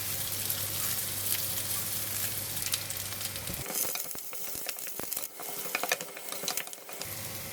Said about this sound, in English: I'm putting in the slices garlic. Throw all the spices, and I also put in the curry leaf.